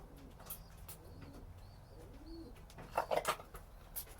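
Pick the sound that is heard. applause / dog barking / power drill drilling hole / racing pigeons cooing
racing pigeons cooing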